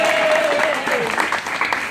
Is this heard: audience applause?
yes